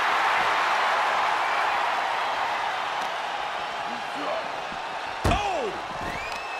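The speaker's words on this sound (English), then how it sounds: "This crowd is deafening" A wrestling crowd at a tag-team tables match roars in a loud, sustained wash of cheering, with a sharp thud near the end.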